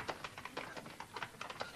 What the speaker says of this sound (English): Typing, eh?